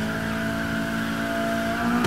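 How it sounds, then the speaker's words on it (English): A car in the racing game NFS Heat doing a tire burnout, with a continuous screech of spinning tires over a steady engine drone, loud and unbroken. "look at this weak ass burnout."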